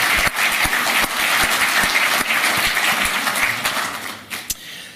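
Warm audience applause at a host nation welcome ceremony, a dense sustained burst of clapping that holds steady then tapers off near the end.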